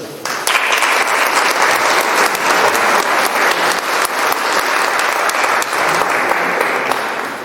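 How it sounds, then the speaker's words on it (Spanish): An audience at a lecture of the Costa Insólita association breaks into loud, sustained applause, a dense wash of many hands clapping throughout. "le pedimos un fuerte aplauso"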